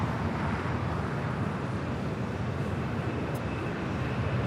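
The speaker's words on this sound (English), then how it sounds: "This is United Airlines 2667 taking off to Washington Dulles on the 737-900ER." A United Airlines Boeing 737-900ER jet takes off at LAX, heard as a steady, broad roar of engine noise holding at a moderate distance without much change.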